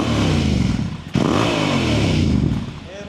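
A Yamaha Revzone motorcycle with its stock exhaust revs close by, easing off briefly before climbing again in a throaty mid-pitched roar, while people talk over it.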